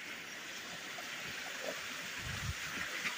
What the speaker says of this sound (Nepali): रातभरि पानी परेको रहेछ खोला पनि ठुलो आएको रहेछ